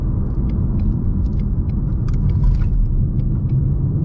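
A 2020 Mustang GT on Michelin Pilot Sport 4S summer tires taking a corner, heard from inside the cabin as a steady, loud low rumble of engine and road noise with faint light rattles, with no voices.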